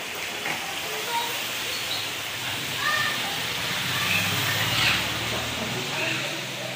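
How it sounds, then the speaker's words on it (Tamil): Heavy rain falls outdoors in a steady broadband hiss, continuous and moderately loud, with occasional faint bird calls in the background. "இங்கே பாருங்க, சரியான மழை."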